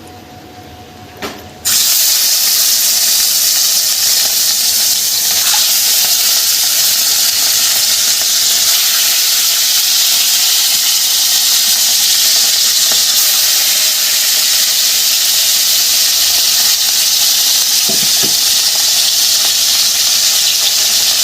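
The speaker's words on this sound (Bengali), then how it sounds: "তেলটা হয়ে গেছে, মাছটা ছেড়ে দিচ্ছি" After a brief quiet moment, rohu fish pieces drop into hot oil and a loud, continuous sizzle and hiss of frying takes over, steady and close for the rest of the time.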